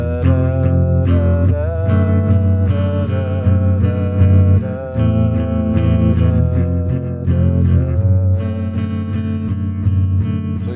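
A distorted electric guitar rings out sustained chords with a low bass note underneath, strummed repeatedly, loud and close with no talking.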